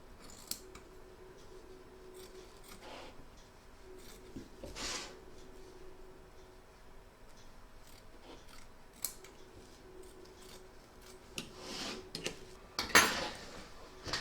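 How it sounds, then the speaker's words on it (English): Scissors snip away excess quilt batting around a large double-sided Santa appliqué, a handful of brief, quiet cuts scattered over the span, with a sharper snip near the end. "Now I'm going to trim away the excess batting."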